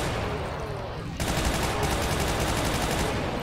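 Automatic weapon fire in the video game Ultimate Doom: after a brief lull, a fast, relentless stream of shots starts and rattles on continuously, loud and close, to the end.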